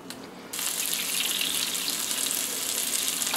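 Floured chicken cutlets fry in a pan with a steady, bright sizzle that jumps in loudly after a quieter half second and holds evenly close by.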